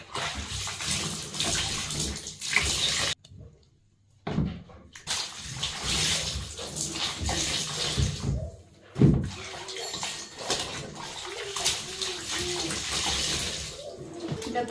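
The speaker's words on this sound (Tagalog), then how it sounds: "nahirapan ako magkuskus dun sa mga puting damit ni Mati kasi may mga dumi-dumi ng pagkain" White clothes stained with food are scrubbed by hand in water after the washing machine broke down. The sloshing and swishing runs steadily and close, with one brief lull partway through.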